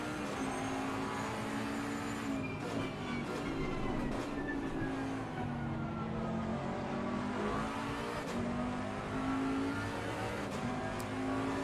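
A GT3 race car engine heard onboard in the racing game Assetto Corsa Competizione at Misano, a loud continuous engine drone rising and falling through gear changes, close and unbroken with no talk.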